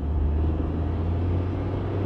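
A Honda Fit GE8 with an aftermarket short shifter, driven on a road or track, gives off a steady, close engine rumble and drone that holds even for the whole moment, with no talking.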